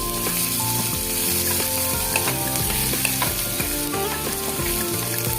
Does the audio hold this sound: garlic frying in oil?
yes